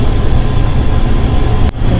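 Steady low rumble and rolling noise inside a moving passenger train on a family trip from Mysore to Mantralayam, continuous throughout with a brief dip near the end and no talk.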